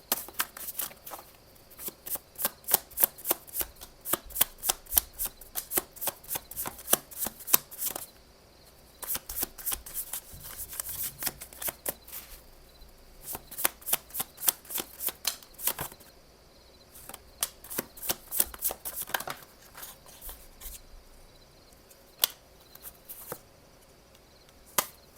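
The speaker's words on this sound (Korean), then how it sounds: "메시지 카드 더 뽑아보면서 얘기 드릴게요" Tarot message cards are shuffled and drawn in fast, crisp riffling bursts of papery clicks, repeated in rhythmic runs with brief pauses between, close and alone with no talking.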